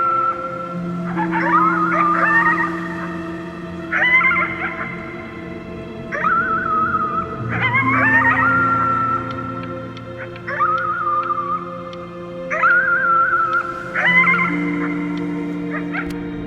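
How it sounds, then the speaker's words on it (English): Drawn-out howling cries at the top of the lungs, a child sick in the video game Before Your Eyes, rising and falling in repeated long wails over a steady low musical drone. "You howled at the moon, at the top of your lungs."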